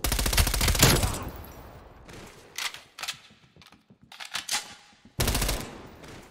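MP5 submachine gun in Call of Duty: Black Ops Cold War, fired in close, loud rapid bursts separated by short gaps with scattered lighter shots and mechanical clicks between.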